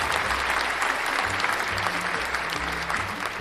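A comedy club audience applauds steadily throughout, continuous dense clapping at moderate distance with a low musical hum underneath and no voices.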